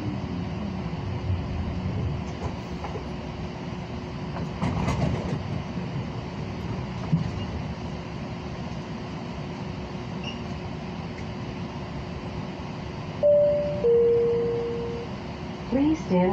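A Siemens S light rail train on the CATS LYNX line hums and rumbles steadily from inside the car, with a low mechanical drone, a short rise partway through and a pair of brief tones near the end.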